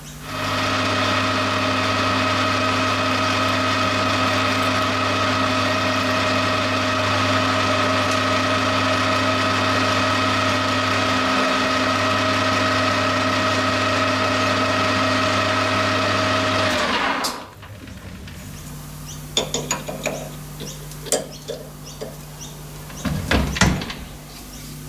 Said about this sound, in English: now we're going to bore this out close to 9/16 and finish with the reamer.